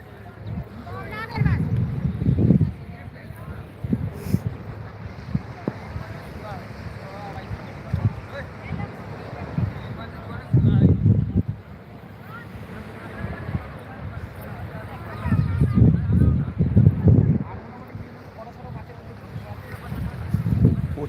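On the shore at Gangasagar, gusty sea wind roars and buffets the microphone in repeated low surges, with a softer wash between gusts and voices in the background.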